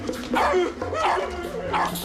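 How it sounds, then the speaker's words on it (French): A cartoon dog gives a quick series of close, loud barks and yips in a French animated episode, densely packed over a couple of seconds. "C'est un vrai chien!"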